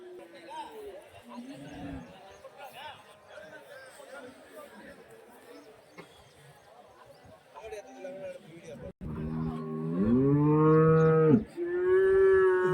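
Cattle at a buffalo, HF and Jersey cow market near Hosur moo loudly in long drawn-out calls toward the end, above a murmur of crowd chatter and nearby voices.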